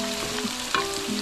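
Corned beef frying in oil with garlic in a pan, a close steady sizzle with a light scrape or clink partway through, brief and without voices.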